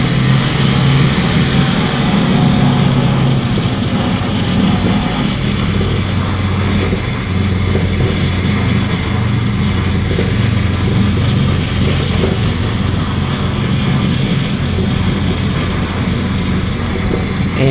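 A Hawker Hurricane-type fighter comes in to land in the flight sim IL-2 Cliffs of Dover, gear down, at about 95 to 100 mph. A steady, loud, low engine drone and rumble runs throughout with no talking.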